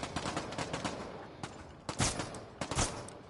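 Rapid gunfire in the VR shooter Bravo Team, a quiet burst of crackling shots and distant bangs, some volleys louder and clustered near the end, with no talk over it.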